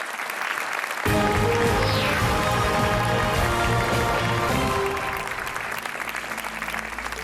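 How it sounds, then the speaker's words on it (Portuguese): Studio audience clapping on a Portuguese TV quiz show, swelling loudly after a second and holding steady under theme music, then fading as the music continues. "mais um aplauso para o Miguel Guimarães."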